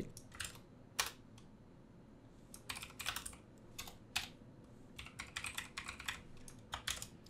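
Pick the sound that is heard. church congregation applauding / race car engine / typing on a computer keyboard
typing on a computer keyboard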